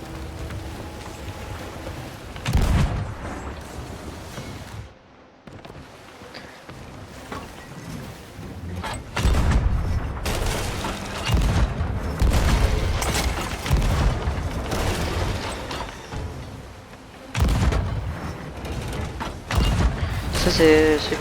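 Heavy booms of cannon fire in Sea of Thieves burst out several times over a constant rushing, rain-like background, with a person talking throughout.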